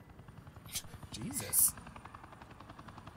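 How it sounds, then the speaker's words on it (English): Helicopter with a mounted gun in the video game Batman: The Enemy Within whirs with a rhythmic rotor pulse alongside bursts of gunfire, while a voice briefly speaks over it. "Is that helicopter got a gun on it?"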